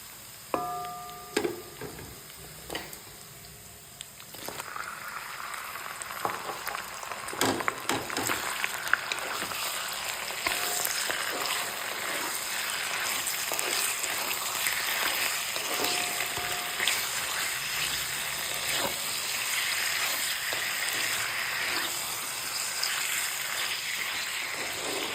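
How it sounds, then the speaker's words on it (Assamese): Chicken meat added to browned onions in hot oil hisses and sizzles in a pan; a few knocks and stirring clatters come first, then a steady, close frying crackle builds and holds. "এতিয়া ইয়াতে মই মাংসখিনি যোগ কৰি দিম।"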